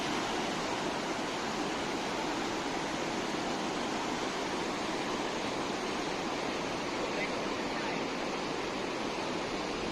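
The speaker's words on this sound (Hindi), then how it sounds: "यहाँ बहती हुई भागीरथी नदी" The Bhagirathi river rushes steadily through a Himalayan valley on the road near Harsil and Gangotri, a loud, continuous broadband roar of turbulent water with no pauses, close by and unaccompanied by voices.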